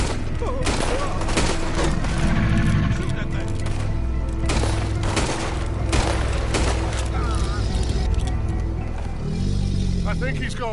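Gunfire in the video game Red Dead Redemption 2, dense bursts of repeated shots and booms over a constant loud background, with voices talking throughout.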